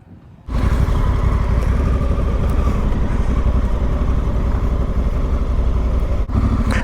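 A Honda Africa Twin motorcycle engine runs loud and close on steep, loose gravel. It cuts in after a brief quiet start and holds a steady, throaty drone throughout, with a short dip near the end.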